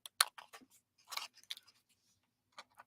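Scissors trim a paper tab in a series of crisp, close snips, some quick and clustered, others spaced apart with brief pauses between cuts.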